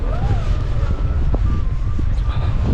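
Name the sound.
very cold wind blowing outdoors in Edinburgh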